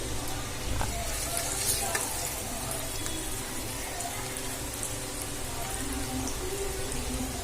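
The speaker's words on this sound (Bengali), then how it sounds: "আমি এবার এটা ভেজে নেব। আমি গ্যাসটা লো করে রেখেছি।" Spices fry in a pan over a low gas flame, giving a soft, steady sizzle with occasional light stirring clicks.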